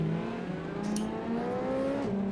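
A car engine in the Assetto Corsa racing game climbs steadily in pitch as it accelerates through the gears, loud and continuous, with a brief shift near the end.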